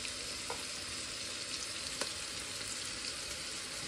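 Fish roe frying with onion and dried jujube in a pan makes a dense, steady sizzle with a couple of sharp stirring knocks, close and continuous without voices.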